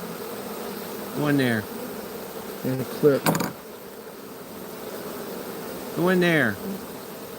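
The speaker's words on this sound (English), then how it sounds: "Alright, I want that bee." A few honey bees from a swarm buzz close past, two brief droning passes a few seconds apart over outdoor background hiss, while someone talks in between.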